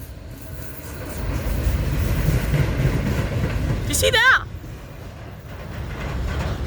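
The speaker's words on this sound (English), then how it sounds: "That was the loram grinder." A Loram rail grinder train rumbles past on the tracks at close range, with a brief sharp squeal partway through, while a person speaks over the steady roar.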